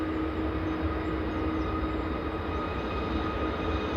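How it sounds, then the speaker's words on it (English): An Aer Lingus airliner landing at Manchester Airport holds its nose up for aerodynamic braking, giving a steady, broad roar with a low rumble and a faint tonal whine, continuous throughout with no voices. "Bit of aerodynamic braking there from Aer Lingus."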